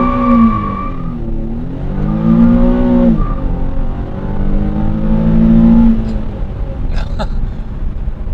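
A 2008 Nissan 350z on all-season tires launches hard, its engine note rising loudly through several revs and climbing pitch sweeps, close and continuous for most of the run, with brief clicks near the end.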